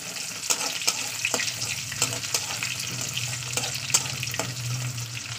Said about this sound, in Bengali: এবার আমি পেঁয়াজটাকে একটু লাল লাল করে ভেজে নেবো।